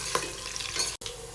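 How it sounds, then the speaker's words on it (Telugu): Oil crackles and sizzles steadily in a pan, with a few clinks and scrapes of stirring close by. "ఇలా మధ్య మధ్యలో మిక్స్ చేసుకుంటూ ఫ్రై చేసుకోవాలండి."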